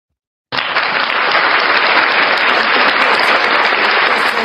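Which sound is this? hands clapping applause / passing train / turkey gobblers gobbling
hands clapping applause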